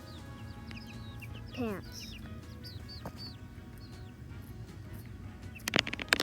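Backyard chickens cluck and murmur nearby while pecking around, a few short calls rising over a low background, with a person briefly speaking and some rustling near the end.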